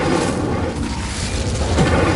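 A fire spell cast in a wizarding video game bursts out as a loud, dense roar of flame that holds steady for about two seconds with no pause.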